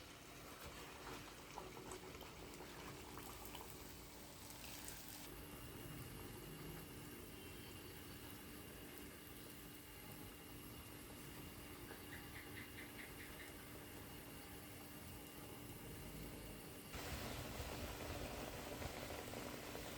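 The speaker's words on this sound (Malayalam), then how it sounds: "നമ്മൾക്ക് ബാക്കിയുള്ള പപ്പടവട കൂടി വറുത്തെടുക്കാം." Continuous loud hissing and bubbling of pappadavada (battered papadum fritters) deep frying in hot oil, steady throughout with no voices.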